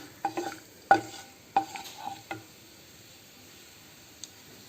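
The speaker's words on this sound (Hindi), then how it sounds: "खड़ा मसाला, फिर इसको थोड़ा भूंज लेंगे।" Whole spices dry-roasting in a pan for an Odisha aloo dum, heard as a few sharp scraping stirs and rattles up close, then quieter, with a single faint tick near the end.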